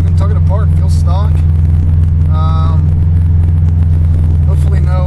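Subaru WRX fitted with a 20G turbo, its engine a loud, steady low drone heard from inside the car while driving, with a person talking over the rumble.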